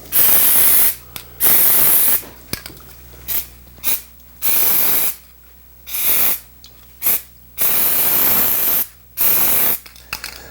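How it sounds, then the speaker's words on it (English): Contact cement sprayed onto a Ford Model T sun visor frame: a series of about nine short hissing spray bursts, each a second or so long, separated by brief pauses, close and loud. "I'll spray this frame with a couple coats of contact cement"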